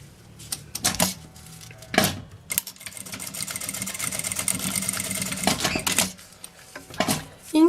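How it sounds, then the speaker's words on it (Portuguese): A sewing machine stitches a seam on a child's backpack strap in short bursts of rapid mechanical clatter, one longer steady run in the middle, with quiet handling sounds between bursts. "E aqui eu passo uma costura."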